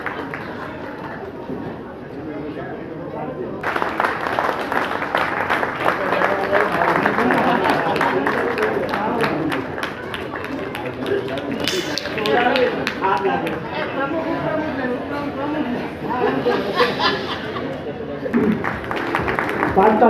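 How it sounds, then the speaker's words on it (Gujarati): A crowd at a Navi Mumbai Brahmin community honours ceremony gives loud, sustained applause for a donor: dense clapping that swells in and holds steady, mixed with murmuring chatter and voices. "જોરદાર તાળીઓ એમની માટે આપણે કરીએ."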